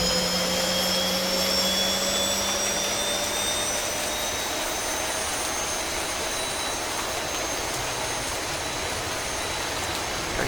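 Boeing 737 jet engine number 2 spooling up during start in the X-Plane 11 game, a steady loud roar with whining tones that slowly rise in pitch, continuous and unbroken throughout.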